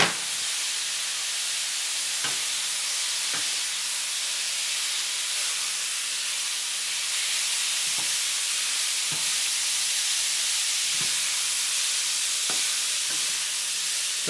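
Steak sizzles steadily in a hot pan for a Philly cheesesteak, a continuous close frying hiss broken by occasional soft scrapes and stirring clicks, with no talking.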